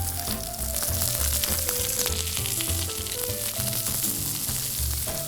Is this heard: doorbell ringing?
no